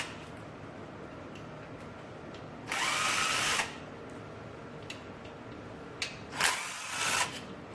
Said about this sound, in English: grab your T30 Torx bit, take these 4 screws out on the top right there